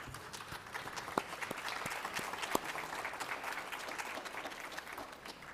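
Steady applause from a crowd, many hands clapping at once with a few sharper claps standing out, continuing evenly throughout.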